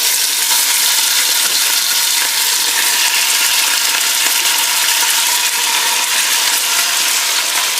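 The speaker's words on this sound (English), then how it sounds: "we're going to get that pork going right in there. And it's going to sizzle pretty good." Pork sears in a hot pan for a green chile recipe, giving off a loud, steady, continuous sizzle throughout with no voices.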